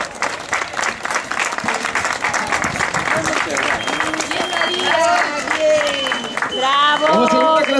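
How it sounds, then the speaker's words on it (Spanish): Loud, sustained crowd applause welcoming the second-placed woman runner at an award ceremony of the 2018 Carballedo popular race, with a public-address announcer's voice carrying over the clapping. "Recibimosla también con un fortísimo aplauso."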